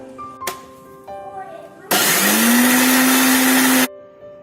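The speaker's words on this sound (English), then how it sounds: "To begin with, we will make a smooth paste of garlic, onion and green chilies in the mixer." A kitchen mixer grinder blends garlic, onion and green chilies into a smooth paste, starting with a loud, steady whine for about two seconds after a few quiet clicks and handling noises.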